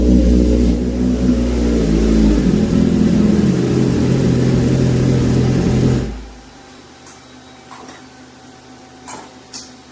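A race bike engine revs hard and loud, with a steady high-revving roar that runs for about six seconds, then cuts off abruptly, leaving faint background noise with a few small clicks.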